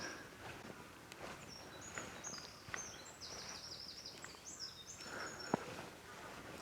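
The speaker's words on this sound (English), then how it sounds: "At least we can hear the birds." Birds sing faintly on a foggy summer morning in southern Sweden, with thin, repeated high chirps and trills spread through quiet outdoor ambience, plus an occasional soft rustle or footstep nearby.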